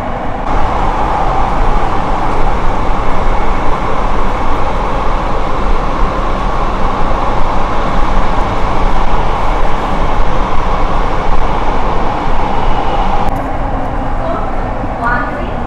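Mumbai's underground metro train runs beneath the Mithi river, a constant loud rolling rumble and rushing roar heard from inside the carriage, steady throughout with a brief dip near the end.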